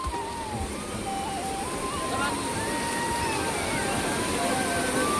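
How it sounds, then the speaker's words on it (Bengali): Sea waves washing onto the beach at Digha, a steady broad wash of surf over a continuous roar, with voices and excited chatter over it. "ঢেউ আসছে ঢেউ আসছে"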